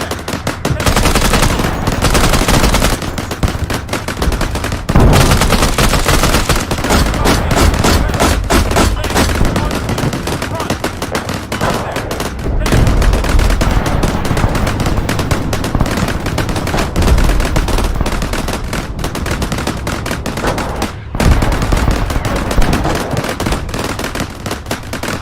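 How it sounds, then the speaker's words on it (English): Battle scene with an M2 Bradley fighting vehicle at night: dense, continuous gunfire bursts and machine-gun rattle mixed with booming explosions, loud and sustained throughout without pause. "the sounds of explosions and gunfire echo through the night"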